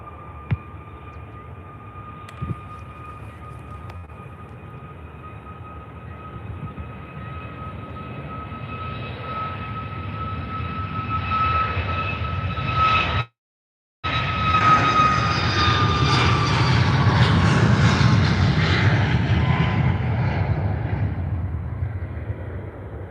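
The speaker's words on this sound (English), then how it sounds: "So here goes the 737 MAX 8." A Boeing 737 MAX 8 jet passes at Faro Airport, a steady engine whine with tonal hums building into a loud, broad roar, briefly cut out mid-pass before resuming strong and sustained.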